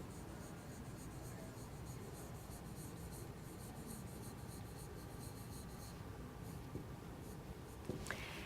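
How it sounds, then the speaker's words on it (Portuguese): Continuous hand writing on a surface during a classroom-style explanation of statistics variables, a steady faint scratching texture running throughout with a brief sharper scrape near the end. "Vou escrever aqui."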